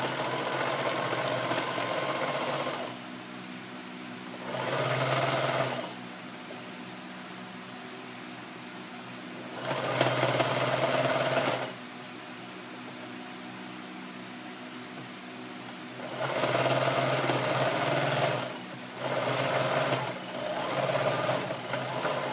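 A sewing machine runs in several bursts across old denim jeans, steady whirring stitching runs of a few seconds each separated by pauses, close and moderately loud with no talk.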